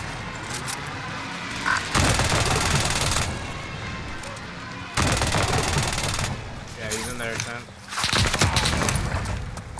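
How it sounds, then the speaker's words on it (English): Bursts of rapid automatic gunfire in a shooter video game, several loud rattling volleys separated by short pauses, with players talking over the action. "I'm gonna shoot at him."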